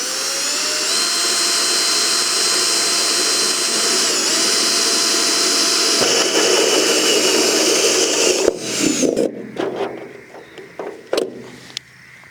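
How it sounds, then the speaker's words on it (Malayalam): A drill bit bores a hole through a plastic container for a homemade water filter, a loud steady high-pitched whine that holds for about eight seconds, then stutters and breaks into short bursts as the bit works through. "നമ്മൾ നമ്മുടെ ഡ്രിൽ ബിറ്റ് വെച്ച് ഇത് ഹോൾ ഇടാൻ പോവാണേ"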